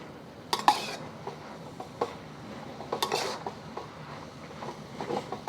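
Moo shu pork cooking in a pan with its sauce, giving soft sizzle with a few sharp clinks and scrapes of a utensil against the pan, quiet and close with no talking.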